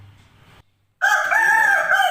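A yellow Aseel rooster crows once, loud and close, a sustained harmonic call starting after a brief silence that follows some faint low background noise.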